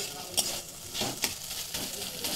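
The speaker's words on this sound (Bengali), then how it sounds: "এবার আমি বেগুন আর শিমকে ভালো করে একটু থেতনায় নিচ্ছি, যেন দুটা যেন একসাথে মিক্স হয়ে যায়" Eggplant and flat beans mashed and stirred together in a pan, soft scraping, squelching strokes with a few sharper clinks of utensil on metal, close and fairly quiet, no talking.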